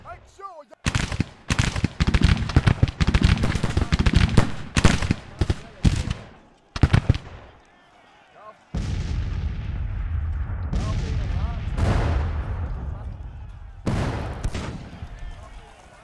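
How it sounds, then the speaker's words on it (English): Cannon artillery fire in the Civil War strategy game Grand Tactician, a dense run of loud booming shots and crackling volleys for several seconds, then a lull and a steady rumbling battle din with a few more sharp blasts. "the cannon is just shooting a little bit randomly and killing people"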